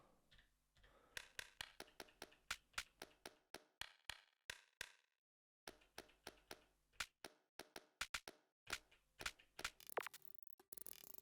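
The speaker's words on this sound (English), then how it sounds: "that's a mono clap" Mono clap sample triggered repeatedly on an Elektron Digitakt II, a rapid run of sharp, dry hits in steady rhythm, a brief gap, then more claps in a varied pattern ending in a denser burst, with no voices.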